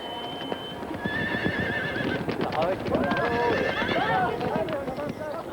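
Horses whinny and neigh repeatedly on the open Mongolian steppe, loud and close, with hooves clip-clopping underneath and a herd bustling throughout.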